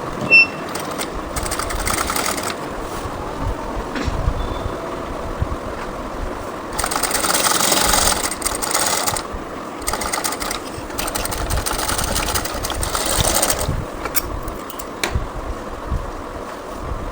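A sewing machine runs in bursts while stitching the joined seams of a six-panel petticoat, its steady whirring motor starting and stopping close by with short pauses between runs, and no one talks.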